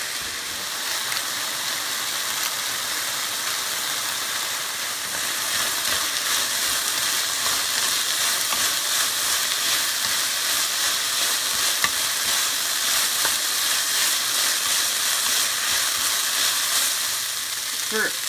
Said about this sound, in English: we want the onions to be a little bit more done, a little bit more caramelized